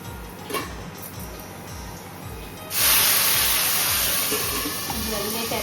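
Paneer pieces frying in hot oil for a paneer curry, with a sudden loud, steady sizzle that starts partway through and fills the rest of the clip over quieter kitchen noise and a low background murmur.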